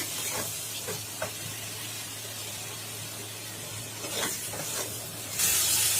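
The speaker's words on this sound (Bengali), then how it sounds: "আলুগুলোকে দিয়ে দিচ্ছি। আলু আর কয়েকটা লাউ ডাঁটা" Potatoes and bottle gourd stems go into hot oil, setting off a steady fizzing sizzle with a few scraping stirs and a louder hiss swelling at the end, close and moderately quiet, no talk.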